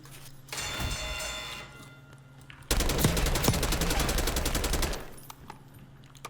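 Rapid automatic gunfire in the video game Call of Duty Warzone, with a burst of shots followed by a louder, sustained stream of rattling fire, close and dominant, fading out near the end.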